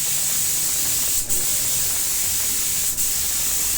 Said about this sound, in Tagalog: Nag-spray po. Mahogany finish.